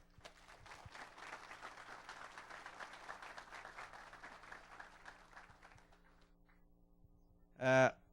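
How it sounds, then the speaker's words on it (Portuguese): Audience applause at a cattle-genetics field-day talk, a sustained round of many hands clapping that fades out gradually, followed by a brief louder voice close to the microphone. "eu peço uma salva de palmas"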